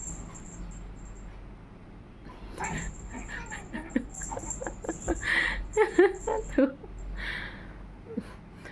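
Dogs play-biting and wrestling, with soft whimpers, yips and pattering scuffles rising in the middle, while someone talks over the play.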